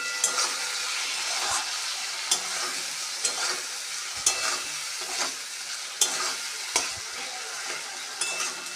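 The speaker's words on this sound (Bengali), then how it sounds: "টমেটো দিয়েছি, হলুদ লবণ দিয়ে ভালোভাবে টমেটোটা গলে নেব" Tomatoes with turmeric and salt sizzle steadily in a hot pan while a utensil stirs and scrapes at a regular rhythm, close up, cooking down for egg curry.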